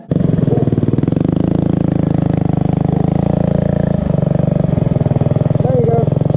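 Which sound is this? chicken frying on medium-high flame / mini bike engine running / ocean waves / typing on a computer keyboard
mini bike engine running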